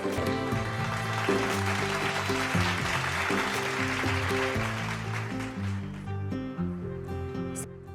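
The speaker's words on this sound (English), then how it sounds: "let's give him a big round of applause" Wedding guests applaud the groom, a soft wash of scattered clapping heard under steady ceremonial music with sustained tones, fairly faint overall.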